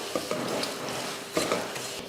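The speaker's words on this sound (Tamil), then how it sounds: "இந்த டைமில் நம்ம வறுத்து வச்சுருக்க ரவையை சேர்த்துட்டு அதையும் கிளறிடலாம்" Scraping and gritty stirring of roasted semolina in a pan, with a few louder strokes and a soft sizzle underneath.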